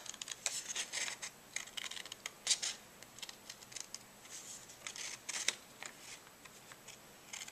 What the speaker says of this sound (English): Well, I think I'll go ahead and trim this up now.